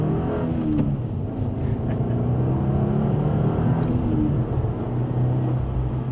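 A 2025 Subaru WRX tS accelerating up to speed, heard from inside the cabin: a continuous, fairly loud engine and road drone that rises steadily as the car gains pace.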